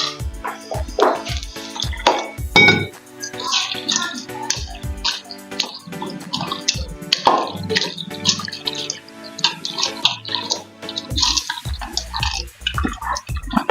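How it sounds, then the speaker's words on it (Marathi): Peanuts and lentils are rinsed clean in water, with close splashing, sloshing and clattering handling noises in quick irregular bursts throughout and no talking. "शेंगदाणे आणि ही डाळी सगळ्या आपण स्वच्छ धुवून घालू."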